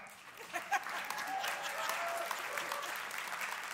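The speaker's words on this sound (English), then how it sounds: "I swear, I don't pay these people to clap for me" An audience at a church service applauds the middle school pastor, a full, continuous clapping crowd with a few sharper claps near the start and faint voices mixed in underneath.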